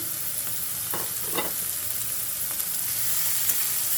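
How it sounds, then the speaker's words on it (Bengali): Mixed vegetables, including beans and grated frozen carrot, fry in oil for egg noodles, a steady hiss with a few louder crackling bursts and light stirring, with no voices. "এখানে সবগুলো সবজিটা তেলের ভেতরে খুব ভালোভাবে ভেজে নেব"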